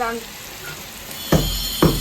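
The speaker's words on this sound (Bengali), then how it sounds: "আলু ভাজা আর করলা ভাজা আসানো হচ্ছে" Potatoes and bitter gourd frying in oil give a steady sizzle, with two louder bursts of hiss near the end, as if the pieces were stirred or turned.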